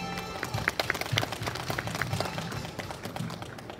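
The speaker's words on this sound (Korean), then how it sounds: "여러분 무대에 오르실 때 큰 박수로 환영 부탁드리겠습니다." Audience applause in a conference hall at a blockchain business event as a speaker walks on stage, scattered distinct claps and hand slaps rising and then thinning out, with no one talking over it.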